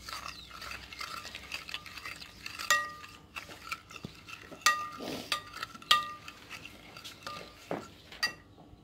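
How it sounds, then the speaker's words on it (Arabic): A marinade of olive oil and vinegar for oven chicken being whisked in a bowl, irregular clinks and scrapes of a utensil against the dish with soft sloshing, close and fairly quiet. "وغادي نخلط هاد المارينات ديالي"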